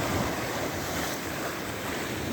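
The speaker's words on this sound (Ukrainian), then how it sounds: "Але є легкий вітерець." Breeze blowing on a beach at Odesa's Arkadia by the sea, steady wind rushing over the microphone mixed with soft surf, constant and close with no voices.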